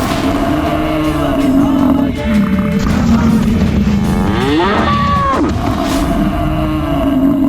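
Cattle moo in long, low drawn-out calls, loud and close, over a rumbling dramatic background with a few whooshing effects in a mythological TV drama scene.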